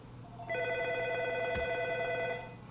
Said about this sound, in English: The telephone is ringing because I'm at a music store.